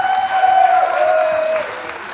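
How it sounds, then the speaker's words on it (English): Audience applause for a graduating comedy school class at a comedy show, a loud continuous burst of clapping with a sustained tone running over it, fading slightly at the end. "Please give a round of applause for everybody that you came out to see the new graduates class."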